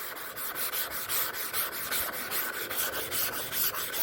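Sanding the painted hood of a 1984 Chevy C10 truck for a patina finish, a steady rasping rub repeated in quick back-and-forth strokes, close and continuous with no talking.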